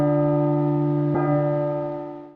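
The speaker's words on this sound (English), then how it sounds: "This bell summons Lisa." Deep church-style bell in a horror video game, struck and then struck again partway through, each tone ringing out loud and slowly fading on its own.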